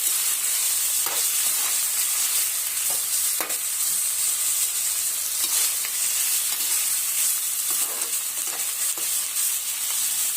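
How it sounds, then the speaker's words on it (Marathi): Chopped tomatoes for a spicy chutney are sautéed in a pan, a steady bright sizzle broken by repeated spatula scrapes and stirring knocks, close and without speech. "हे छानपैकी असं सारखं परतून घ्यायचं"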